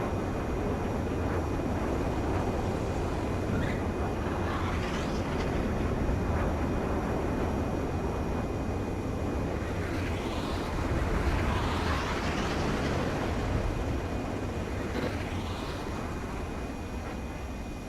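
A fighter jet in Ace Combat 7 touches down on a runway, its engine a loud, continuous broadband roar that swells and eases slightly throughout.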